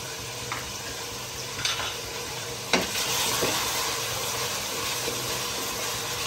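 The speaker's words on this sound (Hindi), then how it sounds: "यहाँ पे चिकन और प्याज भुन रहा है।" Chicken and onions fry in a pot over a village cooking fire, giving a soft, steady sizzle with a few sharp clanks of a spoon against the metal, moderately close and without talk.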